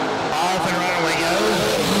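Drag racing cars launch down the strip at London Dragway in a Quick Outlaw Series event, a dense, loud, continuous engine roar with an announcer's voice over it.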